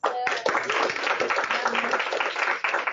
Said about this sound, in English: Let's put a round of applause to Chris.